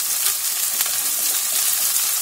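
Colored bell peppers, added to a pan with garlic for a quick breakfast omelette, fry with a steady, bright sizzle that crackles evenly throughout, close and fairly loud, with no talking.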